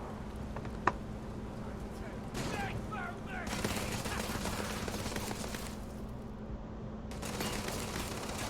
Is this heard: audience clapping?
no